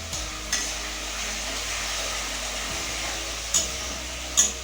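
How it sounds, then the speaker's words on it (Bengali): A spiced banana flower mixture with salt and turmeric is stirred in a pan over a soft continuous sizzle and hum, with a few sharp scrapes or knocks near the end, quiet and close. "সব কিছুকে আবারও খুব ভালোভাবে মিশিয়ে নেব।"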